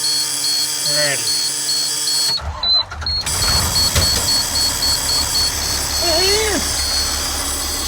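A bus engine cranks and catches after new batteries are fitted, following a two-week rest, then settles into a steady low idle. A dashboard chime beeps repeatedly, and voices talk over the engine near the start and end.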